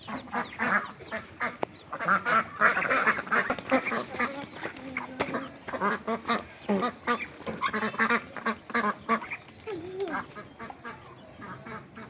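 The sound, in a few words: ducks quacking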